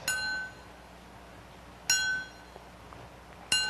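An ultrasound machine imaging deep at low pulse repetition frequency gives three faint, sharp, ringing pulses spaced far apart, with quiet hiss between them.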